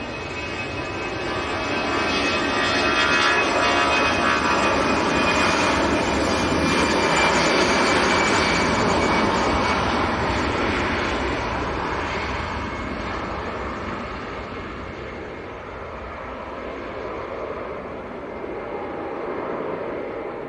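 An EasyJet Airbus A319 bound for Belfast roars steadily as it departs, a broad sustained jet rumble that swells and slowly fades over about twenty seconds at a distance.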